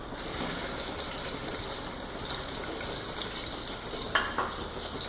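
Onion frying in oil in a pressure cooker for beef biryani, a steady close hiss and sizzle throughout with a couple of brief clinks near the end.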